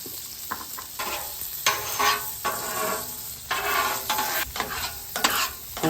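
Chicken fried steak sizzles and crackles in hot oil on a Weber slate griddle, a steady loud fry broken by bursts of scraping and stirring, with no voices.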